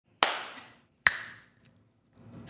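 Two sharp, bright hand claps ring out about a second apart in a quiet room, each one followed by a short decaying echo, with faint small movement noises afterward.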